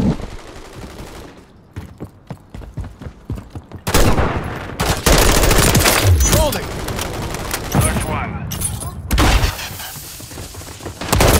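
Gunfire in the video game Modern Warfare III, with sustained automatic bursts and sharp impacts that swell loudly midway, mixed with in-game radio voice callouts.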